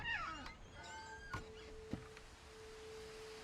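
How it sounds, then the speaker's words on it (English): A cat meows several times inside the video game What Remains of Edith Finch, with a few short rising and falling cries in the opening seconds over a quiet steady tone and faint background sounds. "I hear the kitty."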